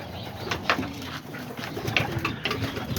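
Homing and roller pigeons coo softly in intermittent bursts at close range, with faint wing flutters and light rustling outdoors around a feeding area.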